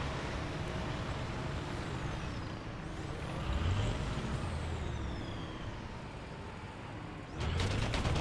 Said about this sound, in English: There's what sounds like a Leopard 1 or a Gepard or something coming from that direction.